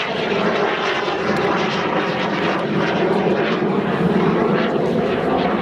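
A Jet Provost jet trainer flies a solo airshow display at Shoreham, its engine a loud, continuous roar that swells and fades slightly as it passes overhead.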